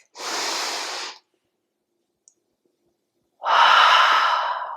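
Deep breathwork during a yoga session: a long, airy inhale, a pause of near silence, then a louder, rushing exhale close to the microphone.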